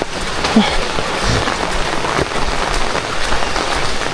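Heavy rain pours steadily during a typhoon, a dense, continuous close hiss of drops drumming on surfaces with no gaps, loud throughout.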